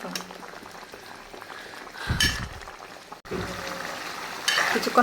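Potatoes sautéing in a pan for a chicken-bone mung dal and potato dish: a steady mid-level sizzle with scraping stir strokes and a lid clatter, growing louder toward the end.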